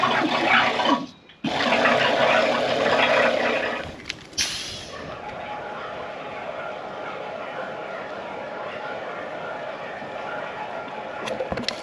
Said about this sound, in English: So we'll hook the pump up, get it running, and see if it's leaking off any of these little connections